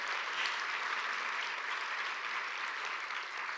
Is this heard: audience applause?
yes